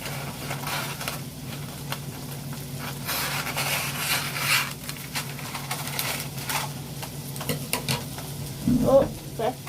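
Pan heating on a stove with goat's cheese soft frying, a faint steady sizzle and crackle with light stirring scrapes, close and quiet, with no talking.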